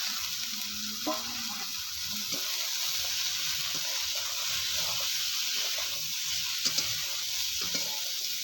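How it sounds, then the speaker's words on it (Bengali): Sliced sponge gourd (nenuya) goes into a frying pan of spiced cooking mixture, giving a steady, moderate sizzle with occasional scraping clicks from stirring. "এবার আমি কেটে রাখা এই নেনুয়াটা দিয়ে দিচ্ছি"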